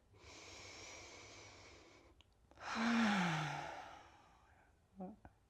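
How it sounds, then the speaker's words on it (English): A deep breath during a trauma-informed floor exercise flow, with a breath taken in, then a longer, heavier exhale sighed out with a slight voiced tone, followed by a faint snort-like sniff. "Got 3 more deep breaths here."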